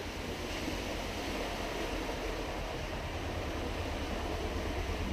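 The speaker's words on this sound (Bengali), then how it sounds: "এই যখন বাইক যাচ্ছে সাইকেল যাচ্ছে তখন এই জলের ভীষণ আওয়াজ হচ্ছে" Bikes and bicycles plough through floodwater on a submerged road, producing a continuous, fairly loud rushing and churning wash of water with no clear breaks and no voices.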